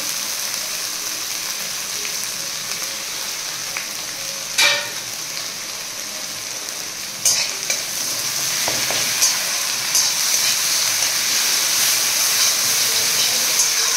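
Onion, ginger, garlic and dry chili paste fries in a pan with browned onions, a continuous loud sizzle broken by a few sharp stirring clatters and a brief surge of hissing midway.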